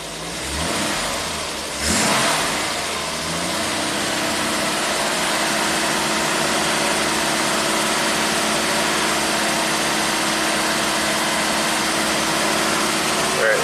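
A 1967 Triumph GT6 engine is revved briefly once near the start, then settles into a steady, loud, sustained running drone that stays close and unchanged to the end.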